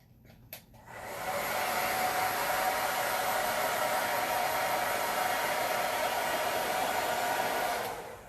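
A hair dryer switches on after a brief click and blows steadily, drying chalk drawings late at night, a loud constant rushing hiss up close until it cuts off at the end.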